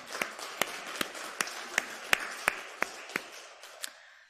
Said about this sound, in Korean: 우리 특별히 오늘 연로하신데 예배 오신 우리 모든 분들을 위해서 박수 한번 보내드리겠습니다.